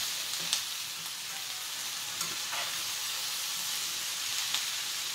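Onions frying in a pan for Caribbean cabbage, a steady close hiss of sizzling with faint scraping and stirring clicks.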